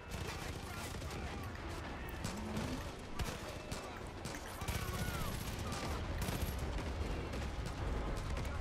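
Rapid bursts of Far Cry 5 co-op gunfire crackle continuously, dense and overlapping, with occasional louder blasts mixed into a busy, noisy battle.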